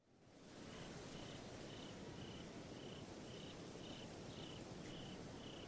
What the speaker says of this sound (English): I can hear the occasional buzzing of insects, but nothing else.